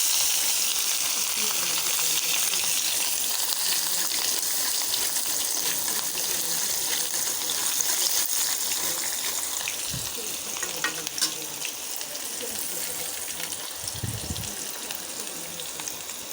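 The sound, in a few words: frying green chillies and onion in a pan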